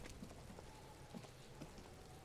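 Steady rain falls in the detective video game Disco Elysium, a soft, even patter of drops on surfaces with faint scattered taps, continuous and fairly quiet, with no talking.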